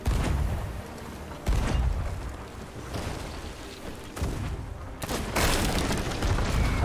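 Ship cannons fire in the pirate game Sea of Thieves during a sea battle, with several heavy booms spread across the stretch, including a quick pair near the end, over a constant rumble of sea and wind.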